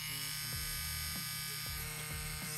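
Steady electric buzz of a CNC Q6 tattoo machine run at its highest operating voltage, a fairly quiet, even drone with faint pitch shifts throughout.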